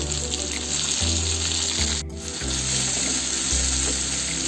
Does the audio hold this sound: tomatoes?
yes